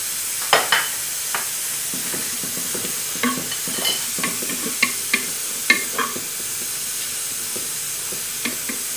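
Onions fry in a pan as spices are stirred in for couscous, giving a steady broadband sizzle with irregular scraping stir clicks and knocks scattered through, fairly close and with no talk.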